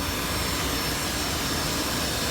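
A vacuum cleaner at a car wash runs with a steady, loud, broadband roar that holds without a break from start to finish, with no voices over it.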